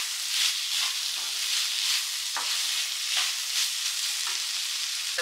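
Spicy broccoli and prawns sizzle and fry in a pan, a loud continuous hiss broken by repeated scraping stirs of a utensil against the pan, with no voices.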